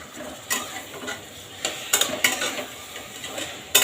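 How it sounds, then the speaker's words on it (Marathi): Chopped potato, beans, cauliflower and carrot are stir-fried in a pan for vegetable pulao, a soft sizzle under repeated scraping and clinking strokes of a spoon, close and moderately quiet. "हे सगळ्या भाज्या आपण आता परतून घेऊ"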